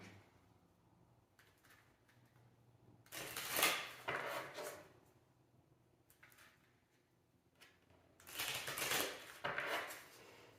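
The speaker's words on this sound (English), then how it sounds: "a round deck is more difficult to shuffle" A round tarot deck shuffled by hand gives two bursts of papery riffling and rubbing, each a second or two long, with quiet pauses between them and no talking.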